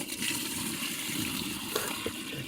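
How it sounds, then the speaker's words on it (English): Liquid poured steadily into a large, heavy container, a continuous close watery gush with no talking. "so just pour this liquid in"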